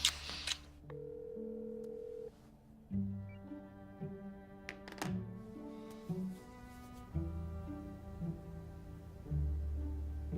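A mobile phone rings with a melodic ringtone, playing a faint sequence of musical notes that repeats for about ten seconds with no talk.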